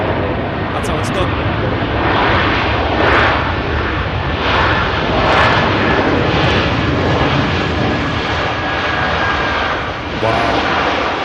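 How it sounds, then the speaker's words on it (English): Fixed-wing airplane landing at an airport, a steady loud broadband roar of engines and rushing air that swells and fades gently over about eleven seconds, with voices talking over it. "What a silky smooth landing that was."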